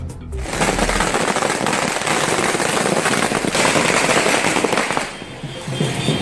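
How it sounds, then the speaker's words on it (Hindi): Dense, continuous crackling of fireworks and firecrackers bursting at a street celebration at Harmu Chowk in Ranchi, loud and close, with rapid popping like gunfire that eases briefly near the end before resuming. "रांची के हरमू चौक पर जिस तरीके से आतिशबाजी की जा रही है"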